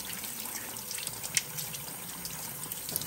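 A kitchen tap runs steadily into a sink while glass pieces are rinsed under water that is not too hot, a soft continuous splashing with a few small clinks.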